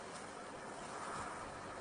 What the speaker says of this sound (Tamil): இங்க காத்து அதிகமா அடிக்குது.